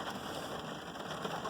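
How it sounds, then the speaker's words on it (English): Rain falls steadily outdoors on an on-and-off rainy day, a dense, even hiss of drops on surfaces, with no talk. "we got rain coming out. It's been raining like on and off all day"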